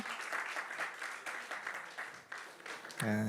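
Applause from the congregation at a church youth worship service fills the room, a steady wash of many hands clapping before it cuts off abruptly at the end.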